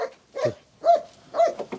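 A farm dog guarding goats barks three times at an outside visitor, short gruff barks spaced about half a second apart, close and clear against a quiet background.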